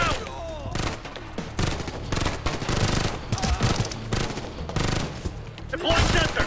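Rapid assault rifle bursts from the Ghost Recon Future Soldier video game crackle in dense, overlapping volleys, loud and close, with short gaps between strings of shots across the whole stretch.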